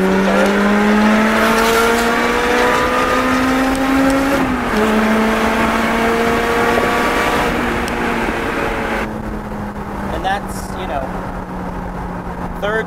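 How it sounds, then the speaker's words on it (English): A 2007 Lotus Exige S engine roars at full throttle, its pitch climbing steadily through the gears from third to fourth with short dips at each shift, loud and close throughout. "we'll go wide open throttle"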